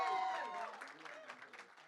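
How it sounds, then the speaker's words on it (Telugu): Audience applause at a film teaser launch event, a broad wash of clapping that starts fairly loud and slowly thins out over nearly two seconds, with tonal traces at the start. "గట్టిగా చప్పట్లతో రిక్వెస్ట్ చేద్దాం."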